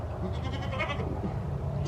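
Nigerian dwarf goats bleat on a farm in a few soft calls, heard over steady background noise with no talking.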